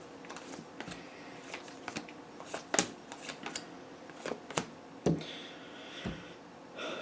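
Tarot cards being shuffled by hand in a quiet room, a run of crisp riffling snaps and soft flutters arriving in irregular bursts, fairly close, with no talk.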